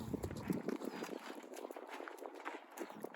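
Horses on a farm shifting about and feeding on pellets, with a steady clatter of hoof clops and chewing and rustling noises close by, continuous over a few seconds.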